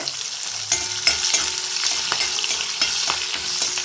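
Curry leaves, garlic and green chili frying in hot oil, a dense steady sizzle with scattered crackles and pops and a few stirring knocks, close and alone with no talk.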